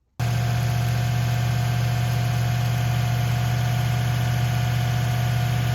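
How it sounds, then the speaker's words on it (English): A Lexus LX470 with a 2UZ-FE 4.7-litre V8 starts and idles steadily with a low, even hum and constant drone, close and loud, with no talk. "Yes, I just tested the engine."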